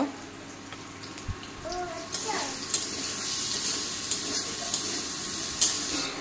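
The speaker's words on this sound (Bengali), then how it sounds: "বেগুনটাও ভেজে নিই" Brinjal fries in a pan in a home kitchen, giving a soft, steady sizzle with occasional light clinks. It is fairly faint and close, with a faint background hiss.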